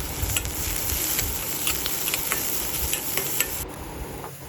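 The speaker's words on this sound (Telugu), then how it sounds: "కొద్దిగా పసుపు, సరిపడినంత ఉప్పు వేసుకొని కలుపుకొని బాగా వేగనివ్వాలి." Chopped onions frying with turmeric and salt in a pan for an ice apple curry, a steady close sizzle with repeated light clinks and scrapes of stirring, no voices.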